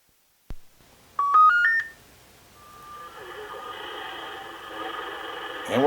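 A Radioddity CB-500 CB radio connected to an Antron A99 antenna gives a click, a quick series of beeping tones, then a steady hiss of static that builds slightly toward the end.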